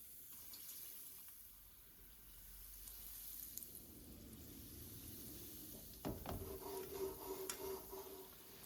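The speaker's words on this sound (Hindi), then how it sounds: "रोल फ्राई कर लेते हैं" Chicken bread rolls frying in hot oil give a faint, steady sizzle that grows into louder crackling and bubbling partway through.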